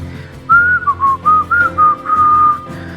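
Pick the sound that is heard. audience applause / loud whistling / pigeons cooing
loud whistling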